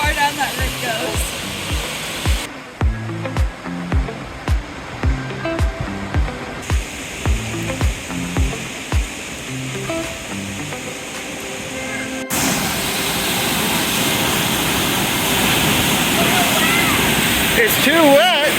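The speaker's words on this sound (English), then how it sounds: "What do you think of that waterfall?" Williamsport Falls, Indiana's tallest waterfall, pours in a steady broadband roar that rises clearly after a stretch of close conversation and rhythmic handling noise.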